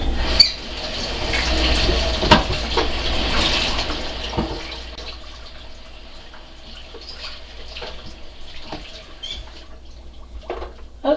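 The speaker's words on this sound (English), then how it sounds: "And lift that out of there and rinse it off" Kitchen tap water runs over blender blades while they are rinsed at a sink, a steady close splash that is louder at first and then softer, with small clinks and no talking.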